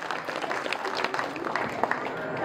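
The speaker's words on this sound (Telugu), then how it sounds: "వేసిన వాళ్ళందరికీ మరొక్కసారి చప్పట్లు కొట్టి అభినందనలు తెలియజేయండి" Audience applause at a public gathering honoring women who drew rangoli (muggulu) designs: a steady, dense patter of many hands clapping that holds throughout without letting up.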